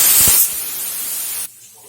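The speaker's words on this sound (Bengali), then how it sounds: "মাছের মাথা ভাজা তেলের মধ্যে দিয়ে দেবো কাঁচা লঙ্কা" Green chilies dropped into hot oil left from frying fish heads give a loud, sharp hiss that spits at first, then settles into a steady sizzle and cuts off abruptly near the end.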